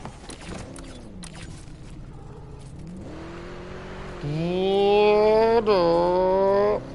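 A car in Helldivers 2 drives along with a low engine whir, then revs up hard into a loud, rising engine whine that holds high before dipping briefly and climbing again.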